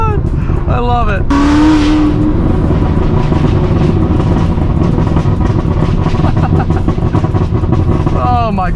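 A loud, close supercar engine roars and revs hard, climbing in pitch with a high-strung exotic rasp, while a person speaks briefly over it.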